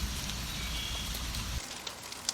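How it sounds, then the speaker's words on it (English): Steady rain hisses in a dense, even patter meant for sleep, with a low rumble underneath that drops away partway through and a few louder drops near the end. "Rain and ocean sounds help calm your mind and guide you into deep, peaceful sleep."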